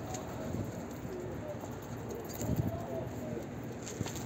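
Pigeons coo softly among a flock, low murmuring calls mixed with faint rustling and background noise, fairly quiet and without close speech.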